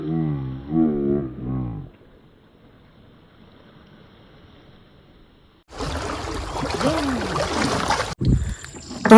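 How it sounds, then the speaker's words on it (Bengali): A small boat is pushed off into the water in the Sundarbans forest: voices at first, a quiet pause, then a loud, close rush of scraping and splashing that surges near the end. "আমাদের নৌকা নামানো কমপ্লিট"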